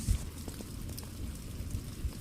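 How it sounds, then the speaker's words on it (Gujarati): Steady rain patters continuously with scattered droplet ticks and a low rumbling wash underneath, moderately loud and without any voices. "મિત્રો અત્યારે વરસાદ પડે છે જો તમને દેખાતો છે વરસાદ"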